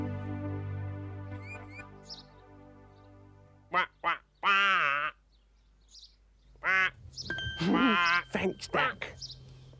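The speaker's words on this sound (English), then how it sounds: "Lovely duck." A duck gives several short, bright quacks in quick bursts, loud and close, alternating with a sustained droning tone and stretches of speech-like sound in a children's programme setting.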